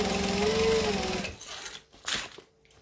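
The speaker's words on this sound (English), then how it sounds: "we have to stitch the lining into this" A sewing machine stitches the lining into a lunch bag, a loud close whirring run for over a second that stops, followed by a few soft handling sounds and brief clicks.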